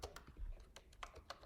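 Someone types a short command on a computer keyboard, a quick run of soft, close key clicks with uneven rhythm and brief pauses between strokes.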